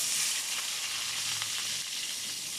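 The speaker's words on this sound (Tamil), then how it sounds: "பட்டை கிராம்பு பூ எல்லாம் போட்டுட்டு இப்போது வெங்காயம்" Sliced onions fry in hot oil with cinnamon, cloves and star anise for a chicken gravy, giving a close, steady sizzle with light stirring scrapes.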